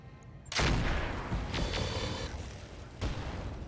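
Mech weapons fire at a light laser turret in the RogueTech BattleTech mod: a loud burst of blasts and impacts starts abruptly, with a second strike near the end and mechanical clatter between.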